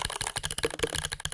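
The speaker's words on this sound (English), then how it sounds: "if you guys want to get keyboard sounds that sound like this" Rapid typing on a computer keyboard with Mechvibes software producing mechanical key sounds, a steady run of crisp, close clicks and clacks with no talking.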